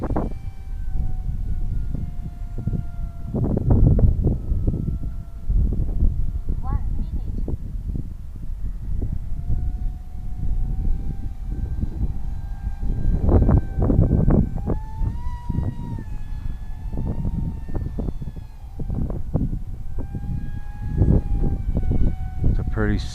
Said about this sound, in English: Pretty speedy little jet on 3S.